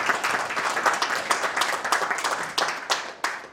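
Audience applause, a close group of people clapping with a brisk, uneven rhythm and individual sharp claps poking through, steady at moderate loudness for a few seconds.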